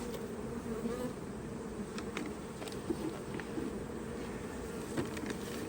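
A late-season honey bee swarm buzzing around a hive, heard as a steady, faint, continuous drone of many bees with occasional closer passes and no speech.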